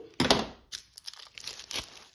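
Scissors snip through the tip of a plastic icing bag, a sharp crinkling cut up close followed by softer rustling and handling of the plastic in short bursts.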